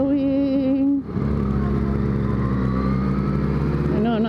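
A Yamaha FZ-09 (MT-09) motorcycle engine hums steadily while being ridden, its tone shifting lower after a brief dip and then holding an even, close drone.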